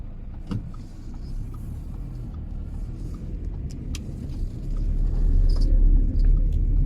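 An Audi Q5 2.0 TDI drives and turns, a steady low engine and road rumble heard from inside the cabin that swells louder toward the end, with faint clicks and no talking.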